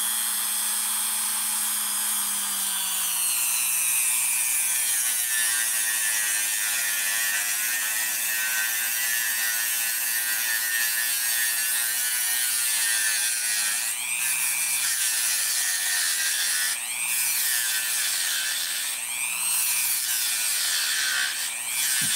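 A rubberized cork fishing rod handle for a BFS setup is cut down on a turning tool, giving a steady, continuous whirring grind with a sustained hum, close and fairly loud throughout, with no talk.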